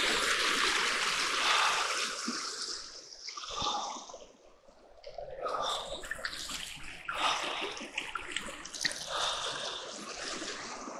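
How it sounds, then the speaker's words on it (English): Water splashing and trickling close by, continuous with a brief lull midway, then stirring and sloshing again. "I'm completely surrounded by water now."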